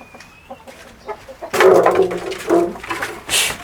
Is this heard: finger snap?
no